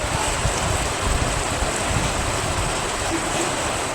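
Sudden rain falling in Bagalur near Hosur, Tamil Nadu: a steady, dense outdoor hiss of rainfall that holds at an even, fairly loud level throughout with no speech.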